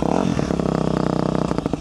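A 2004 Yamaha YZ250F dirt bike engine revs loud and close, with a rough, rapid four-stroke pulse that surges and holds without letup.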